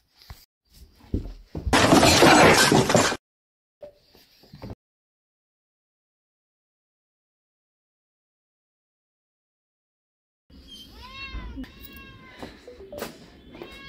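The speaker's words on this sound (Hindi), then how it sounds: "बिल्ली को मुझे लगता है भूख लगी है" A loud crashing burst early on, then silence, followed by a run of several close, insistent cat meows at the end.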